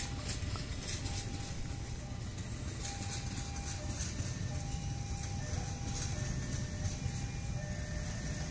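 A KRL commuter train passes and pulls into Cikarang station, with a continuous low rumble of wheels and carriages, faint tonal whines above it and occasional clanks, steady and fairly close.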